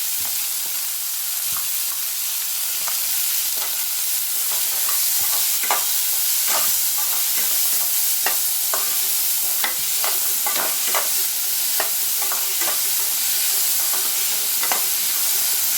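Small shallots frying in hot oil for egg podimas give a loud, steady sizzle with crackling pops and occasional stirring scrapes, close by with no talk.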